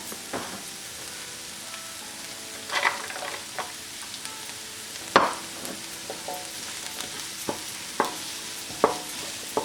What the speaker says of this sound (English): Give it a good stir, and I want to fry these onions till they are transparent or translucent.